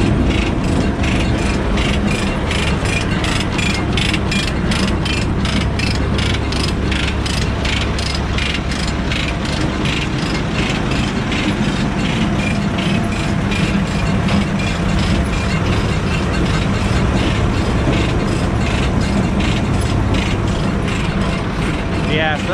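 A repaired manure spreader with one missing crossbar runs steadily, its mechanism keeping up a loud, continuous, rapid ratcheting clatter with a grinding mechanical drone underneath for the whole stretch.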